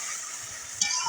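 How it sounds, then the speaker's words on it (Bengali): A spice paste of ginger, cumin and dried red chillies fries in a pan for egg curry and gets stirred. A short, steady sizzle ends with a sharper scrape of the stirring. "এটা একটু নাড়াচাড়া করে নিই।"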